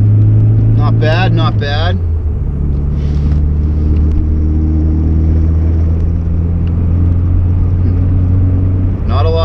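A supercharged 1990 Volkswagen Corrado G60 with a 1.8 engine pulls through a sharp right hairpin, its low engine drone steady and loud from inside the cabin, while someone briefly comments over it.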